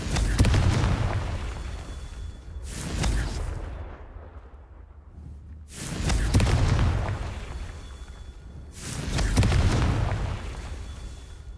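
Confringo blasting spell explosions in the game Hogwarts Legacy: three big booming blasts a few seconds apart, each swelling loud and rolling off slowly, with a low rumble between them.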